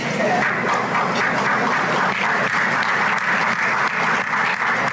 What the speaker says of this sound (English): I thank you for that applause